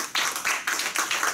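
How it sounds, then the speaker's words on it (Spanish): Brief applause from an audience at a course session, a handful of clear hand claps in quick bursts, fairly close and moderately loud. "Por favor, un fuerte aplauso para el doctor Vega"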